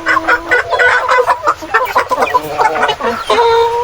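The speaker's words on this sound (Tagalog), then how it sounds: "Kinsi na heritage chicken, mga ka-farmers, yung ating idinagdag sa araw na ito." Rhode Island Red heritage chickens cluck and chatter in a dense, overlapping chorus, close and fairly loud, with brief crow-like calls rising near the end on a rainy farm.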